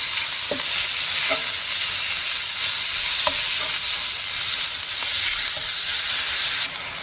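Small chicken pieces sizzle and fry steadily in a pan, a constant hiss with a few faint stirring clicks, close and alone without talk, the noise dropping slightly at the end.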